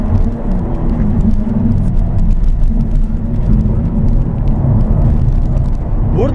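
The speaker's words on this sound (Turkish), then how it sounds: "Üçüncü viteste tam gaz." A 2016 Peugeot 308 GTi engine pulls at full throttle in third gear, a loud, continuous droning rumble with wind and road noise heard from inside the car.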